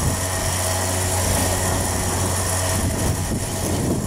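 Rear-mounted vehicle winch making a straight vertical pull, a steady close motor drone with a low hum over an idling engine, with no talk.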